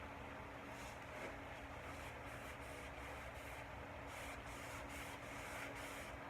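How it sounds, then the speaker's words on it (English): Wet sanding a painted surface with an aging finish for a rustic farmhouse look, a steady close rubbing and scrubbing that runs continuously without pause and with no talk. "when you can wet sand and age it at the same time"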